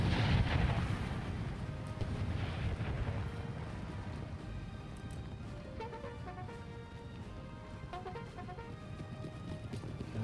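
Cannon artillery bombardment in the video game Empire: Total War: a few deep, muffled booms rumble faintly in the distance early on. Quieter battlefield ambience with scattered tonal game sounds follows.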